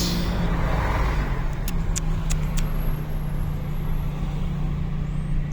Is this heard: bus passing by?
yes